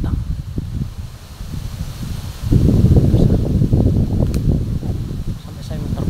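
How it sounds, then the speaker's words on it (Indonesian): Strong gusts of wind rush through foliage ahead of a heavy rainstorm, a loud, close, roaring rustle that builds sharply partway through and keeps surging, with a voice speaking over it at times. "angin datang."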